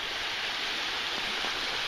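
Gentle sea waves at Gamami beach in Yeonggwang, South Korea, wash in as a steady, even broadband rush of surf, continuous and fairly loud with no voices.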